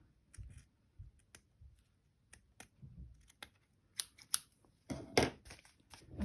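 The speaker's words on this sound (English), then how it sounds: "I'm going to cut that just a little bit more." Scissors snip through lace on a paper-craft envelope pocket, with a series of soft, spaced clicks and cuts that grow into a denser crunching burst near the end, quiet and close.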